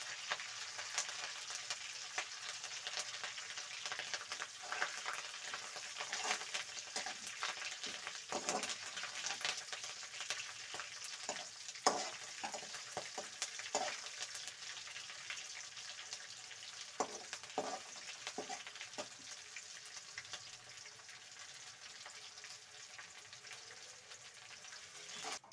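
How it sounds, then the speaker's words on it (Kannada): Curry leaves frying in hot oil in a pan as a tempering for Savji hotel-style chicken curry, giving a steady faint crackling sizzle with scattered louder pops and occasional stirring clicks, with no talking. "ಕರಿಬೇವೆಲ್ಲ ಫ್ರೈ ಆಗಬೇಕು ಚೆನ್ನಾಗಿ."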